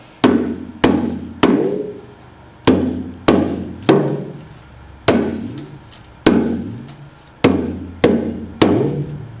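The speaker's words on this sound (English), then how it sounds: "I call this my talking drum. But when you tighten these ends, then it changes the sound." A talking drum is struck about thirteen times in an uneven rhythm, with its cords squeezed so that several hits end in a sliding, bending pitch. The sharp, loud strikes ring briefly before fading.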